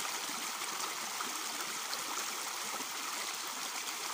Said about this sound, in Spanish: Esa cascada nunca se seca, siempre hay agua aquí.